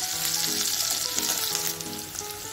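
Whole spices frying in hot oil in a pot, a steady close hiss and crackle that carries on evenly and eases slightly toward the end.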